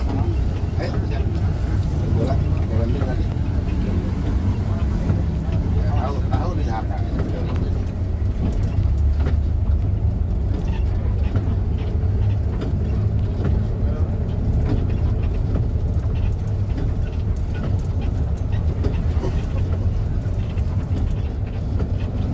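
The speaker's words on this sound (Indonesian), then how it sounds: "Bus medium dari Langkas Bitung ke Kalideres ya." A medium Primajasa bus drives the route from Rangkasbitung to Kalideres, a steady engine and road rumble heard from inside with a varying drone, while a person talks over it at times.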